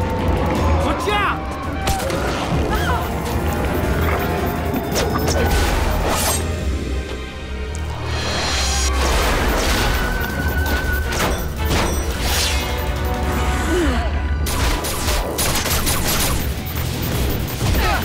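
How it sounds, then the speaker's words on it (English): Gunfire and crashing explosions fill an animated G.I. Joe action scene, with dense bursts of shots and impacts running continuously over a steady rumble while characters shout. "Open fire!"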